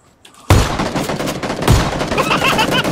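Gunfire in the video game PUBG, linked to a shotgun, with loud close bursts beginning abruptly after a short quiet lead-in and continuing in dense overlapping shots with another heavy blast midway.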